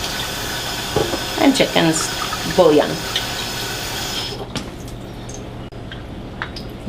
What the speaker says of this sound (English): I use some hot water from the tap